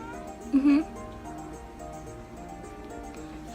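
A pet cat lets out one short meow indoors early on, over a steady background hum, with no other clear sounds after it.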